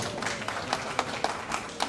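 An audience at a Malayalam film event claps briefly, a thin scattered patter of hands at moderate distance with a few sharper individual claps.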